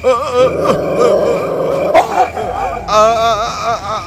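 A dog growls and barks close by, loud and harsh, with snarling that carries on throughout.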